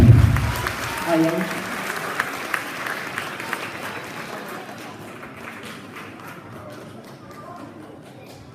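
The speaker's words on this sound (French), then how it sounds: "Vous pouvez l'applaudir bien fort, s'il vous plaît" Applause greets a 6th-dan Shotokan karate demonstrator at a martial arts festival in Marck, starting with a loud thump and voices, then a crowd clapping that gradually thins and fades, with scattered claps and people talking.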